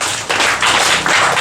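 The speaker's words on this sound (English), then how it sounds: "give me a clap offering to God" A church congregation at a Sunday service claps together in quick, loud, dense bursts, a close burst of many hands with short gaps between.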